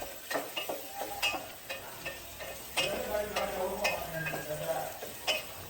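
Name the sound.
mushrooms and potatoes being sautéed in a pan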